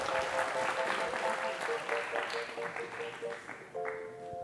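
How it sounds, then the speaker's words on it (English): Audience applause at a tech conference magic show, moderate clapping from a crowd heard under a melodic musical sting and fading briefly before a final musical hit. "Give them a huge round of applause."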